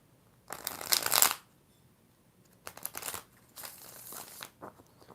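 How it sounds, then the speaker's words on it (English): Worn tarot cards are shuffled by hand in three bursts of riffling and crisp flutter, the first loudest and longest, the later two softer with brief pauses between, close by and without talk. "I think I done shuffled them as much as they can be shuffled"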